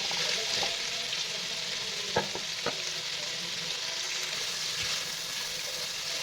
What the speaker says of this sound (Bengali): এখন চিকেনের সাথে সবজিগুলো একটু ভালো করে ভেজে নিব